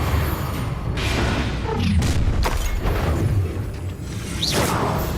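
A Confringo blasting spell exploding in the Hogwarts Legacy video game, heard as a dense, loud wash of whooshes, crashes and rumbling mechanisms that stays full and busy throughout, with no clear speech.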